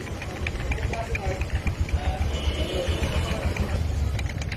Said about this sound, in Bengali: তো ক্লাচ বাটির যে শব্দটা হচ্ছে এটাই কিন্তু স্টার্টে রেসে রাখলে ঢকর ঢকর ঢকর ঢকর শব্দ হতো